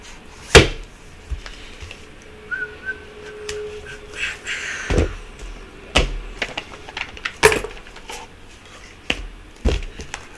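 Tarot cards pulled and shuffled, heard as sharp, sparse snaps and flicks of the cards at close range, scattered irregularly over quiet room tone with no talking.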